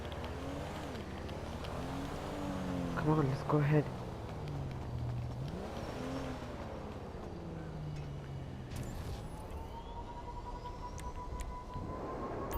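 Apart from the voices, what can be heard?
car engine in the video game GTA Online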